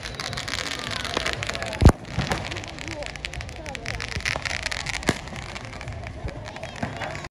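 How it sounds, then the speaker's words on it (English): Fireworks go off during an evening outing. Scattered pops and crackles sound at a distance over steady background noise, and a few sharper bangs stand out, the loudest near the two-second mark. "That's where the fireworks are."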